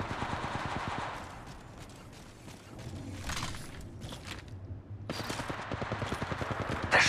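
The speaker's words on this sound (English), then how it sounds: "They're shooting at me." Rapid bursts of automatic gunfire in the mobile battle royale Apex Legends Mobile on the Kings Canyon map, loud close volleys with a brief lull midway before another sustained stretch of shooting.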